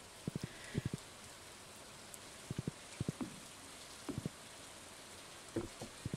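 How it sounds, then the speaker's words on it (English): Rain falls in the farming video game Stardew Valley, a soft steady hiss with scattered small pattering drops and faint clicks, quiet and continuous with no talking. "I'm definitely not opposed to rainy weather"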